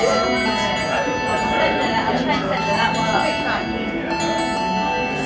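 Chiming bells ring on in a Disney ride queue, bright repeated metallic tones layered over constant crowd chatter, with nearby voices talking across the whole stretch.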